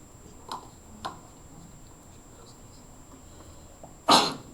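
A single sharp sneeze bursts out near the end of a quiet classroom math lesson, preceded by a couple of soft clicks or breaths, with no talking during it.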